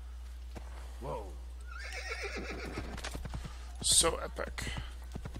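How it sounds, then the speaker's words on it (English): A horse whinnies as hooves clip-clop in an Assassin's Creed game soundscape, over a low steady hum, with a person talking briefly. "All right, back onto horse."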